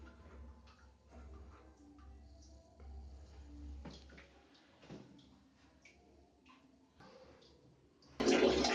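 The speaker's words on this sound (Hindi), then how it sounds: "आउटलेट से पानी पूरा फुल आ रहा है, पानी पूरी तरीके से आ रहा है।" Water from an electric geyser outlet, just refitted with a PVC connection, gives faint clatters and trickles before a sudden loud, full rushing flow bursts in near the end.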